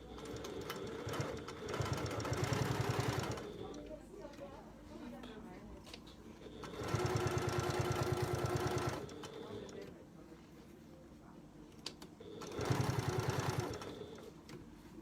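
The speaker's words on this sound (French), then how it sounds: "Donc vous voyez dans les épaisseurs pour coudre des sacs, des sangles, c'est vraiment la machine qui est adaptée." A semi-professional sewing machine stitches through thick layers in three separate bursts of rapid mechanical chatter, with quieter pauses between them, heard at moderate distance at low level.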